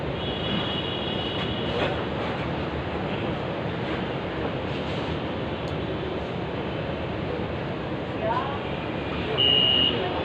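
Metro train rolling steadily into Hanjarwal station, a constant loud rumble of wheels and car noise with a brief brake squeal near the end; no one speaks.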